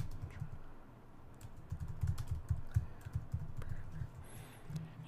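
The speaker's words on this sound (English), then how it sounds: "And type in a message with it." Typing a message on a computer keyboard, a steady run of soft, close key taps with brief pauses, quiet and alone.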